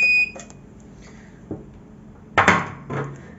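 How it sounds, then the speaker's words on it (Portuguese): A mug sublimation heat press sounds a short, bright electronic beep on reaching 200 degrees. Brief knocks and a louder clatter of handling follow, with no talk. "Ela apitou, a gente vai parar."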